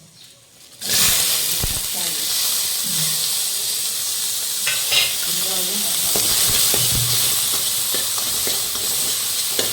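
Onions dropped into hot oil in a pan burst into a loud, close sizzle that holds steady, with occasional stirring scrapes and faint voices murmuring underneath.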